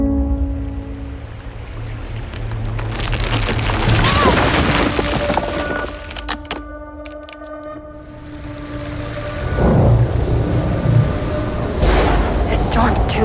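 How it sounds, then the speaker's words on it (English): A mountain thunderstorm with heavy rain in the trailer for the survival film Infinite Storm: deep rumbling booms and rushing noise swell under a dramatic, tonal movie score. "This storm's too big."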